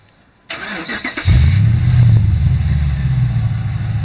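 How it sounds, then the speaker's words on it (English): A Hemi V8 truck engine fires up by remote start: a click and brief cranking, then the engine catches into a loud, deep, rumbling idle nearby. "it's got a remote start, so I'll start it up here for you guys"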